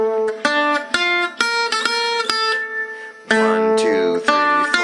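Solo guitar plays a Dark Eyes lick, bright plucked notes moving in a quick, rhythmic run with crisp attacks and sustained ringing tones, close and clear with no talking.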